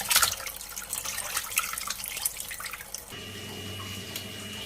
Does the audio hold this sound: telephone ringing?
no